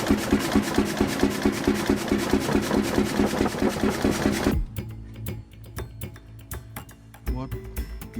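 A 1936 Storebro 2.5-ton hot bulb engine from Sweden runs with a loud, steady rhythmic thumping, then drops abruptly to slower, quieter knocks and ticks before picking up again near the end.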